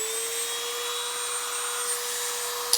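A rotary grinder works on a part of a 1/6-scale Dragon action figure, giving a steady, high-pitched whine that holds one even pitch throughout, close and continuous with no talking.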